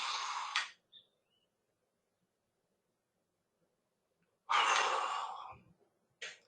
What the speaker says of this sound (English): Let me take a deep breath to show you.